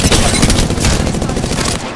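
Gunfire in the video game Apex Legends, a rapid loud fusillade of automatic shots in continuous bursts.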